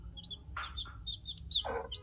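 One-week-old Aseel chicks cheeping nearby: repeated high, thin peeps in quick bursts mixed with a few lower clucking calls over a soft background hum.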